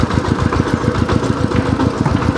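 A tractor's steady, low engine idles close by, chugging in a rapid even pulse with no voices over it.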